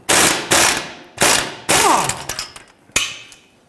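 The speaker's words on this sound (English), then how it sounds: "We're going to use a 21mm swivel socket with our extension and our impact." An impact wrench with an extension and 21mm swivel socket loosening a ball joint nut on a 2011-2023 Dodge Charger, with several loud hammering bursts and a ratcheting rattle between them.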